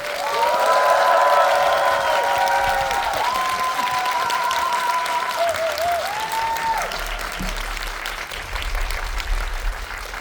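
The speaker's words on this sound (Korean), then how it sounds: "여러분 큰 박수로 환영해 주시죠" Loud, sustained applause from a packed cinema audience at a Megabox COEX guest-visit talk welcoming two film directors, with a few cheers and whoops riding over the dense clapping before it gradually thins.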